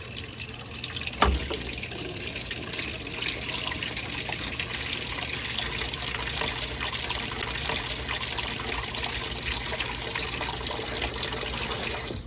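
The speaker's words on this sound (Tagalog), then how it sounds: "kumuha ng malaking mangkok at lagyan ng tubig" Water runs steadily from a tap into a large bowl, a continuous splashing trickle with a brief knock near the start, fairly quiet and without speech.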